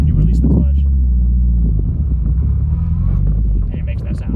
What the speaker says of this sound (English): that's just how cars sound in reverse